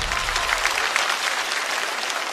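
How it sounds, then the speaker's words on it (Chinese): Studio audience clapping steadily for a comedian on a stand-up comedy competition show, a dense, sustained burst of applause with no talk over it. "掌声再次给小佳"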